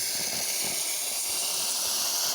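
A Harbor Freight "Grant's" steam cleaner sprays steam at a car windshield with a steady, fairly faint hiss that holds evenly throughout with no talk.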